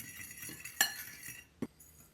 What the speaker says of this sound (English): Combine all of your dry ingredients in a medium bowl.